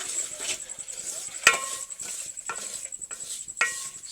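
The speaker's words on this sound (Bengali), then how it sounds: "আপনারা দেখতে পাচ্ছেন আমি এখন সুজিটা ভেজে নিচ্ছি" Semolina dry-roasting in a pan for sujir payesh or halva, stirred with a spoon that gives several light scrapes and a few sharp clinks against the metal over a soft, steady background hiss.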